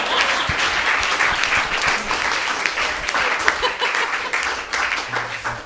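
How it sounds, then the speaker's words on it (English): An audience claps at an album launch evening, a loud, dense burst of applause that carries on steadily with scattered crisp claps and faint background voices. "Give him a big round of applause."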